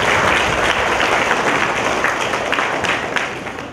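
A church congregation in Warangal claps loudly and continuously in praise of God, a dense, sustained roar of applause that tapers slightly near the end.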